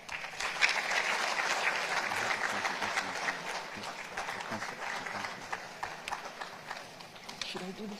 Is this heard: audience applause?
yes